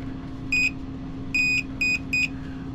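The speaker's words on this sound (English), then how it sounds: "So if we touch our thru-hull, we're going to get beep, because there's definite connection between there." Multimeter continuity tone set to 200 ohm, probing a boat thru-hull: four sharp electronic beeps of uneven length, one short then three in quick succession, clear and close over a low steady hum.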